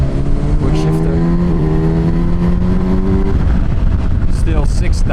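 Kawasaki Versys 1100 motorcycle engine revs hard under wind roar, its pitch climbing through the gears with a clean quick-shifter drop partway through, loud and close throughout.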